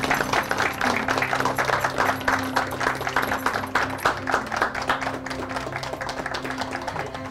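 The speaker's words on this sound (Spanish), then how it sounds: "Así es que le vamos a dar un aplauso a Jesús porque es la casa más hermosa." Outdoor crowd applause at a house handover ceremony in Caimito, Sucre, honoring the man who built the garden; steady, dense clapping that runs the full length at moderate loudness, with a faint background hum.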